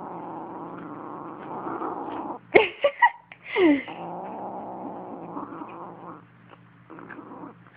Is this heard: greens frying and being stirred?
no